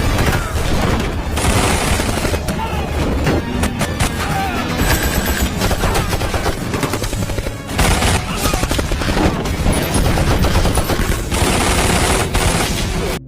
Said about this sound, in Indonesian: Kemudian, baku tembak antar dua kubu pun,